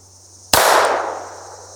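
A single sharp 5.56 rifle shot cracks loudly at close range, and its echo fades over about a second against a faint steady hum.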